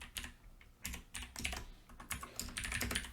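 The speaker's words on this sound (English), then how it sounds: "if I can type" Code being typed on a computer keyboard for an Advent of Code 2020 Python puzzle: rapid, irregular bursts of close key clicks and clacks, loud and dry, with brief pauses between runs and no talking.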